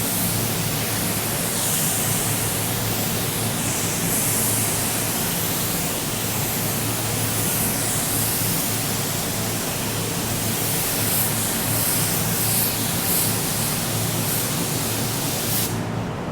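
Paint spray gun laying down a quick coat of pearl, a steady continuous hiss of atomized spray lasting throughout, close and even in level.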